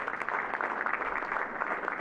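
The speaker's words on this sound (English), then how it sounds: "give her a round of applause" Audience applause fills a city council meeting room in San Bruno, a steady wash of many hands clapping together, sustained and fairly loud throughout with no pauses.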